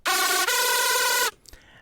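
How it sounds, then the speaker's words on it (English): A screechy, harsh hardstyle synth lead layer sounds one sustained buzzing note that shifts pitch once partway through, loud and bright, then cuts off abruptly and leaves a brief faint tail. "And here we have sort of a screechy sound"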